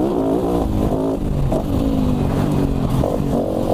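A KTM 450 Dakar rally motorcycle runs flat out in fourth gear, its engine a loud, close, sustained roar with small pitch wavers throughout and no talking.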